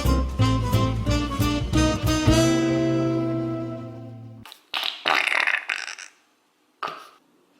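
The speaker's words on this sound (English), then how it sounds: "I thought it'd be really cool to make some farting slime." Homemade borax slime squeezed to make fart noises: a long run of rising, buzzy tones, then a few short wet squelching bursts and a final brief squelch after a pause. No one talks.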